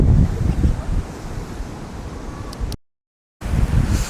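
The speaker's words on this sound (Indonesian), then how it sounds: "angin kenceng guys" Strong wind roars steadily across the beach at Pangandaran, buffeting the microphone with gusty, broadband noise and distant surf, broken by a brief silent gap before the roar resumes.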